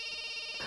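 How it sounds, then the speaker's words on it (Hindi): A telephone rings in a dubbed Indian film scene, a brief steady electronic tone that is loud and close, with no speech over it. "अरे बार बार फोन बज रहा है, उठाते क्यों नहीं हो?"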